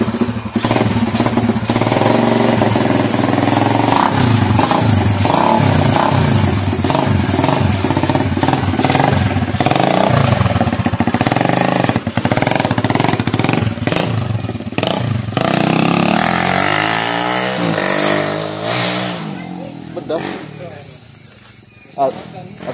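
A Honda CB100 motorcycle engine runs steadily and loudly up close during a test, holding a rough, continuous idle before the sound fades and sputters near the end.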